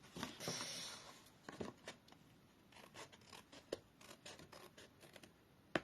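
Scissors cutting card while making a greeting card, a series of crisp snipping and rasping cuts at close range, irregular in rhythm, quiet and with no talk.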